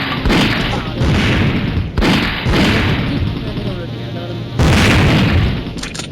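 Bomb blasts in the mobile game Mini Militia: three loud booming explosions arrive about two seconds apart, each rolling into a noisy rumble of game audio.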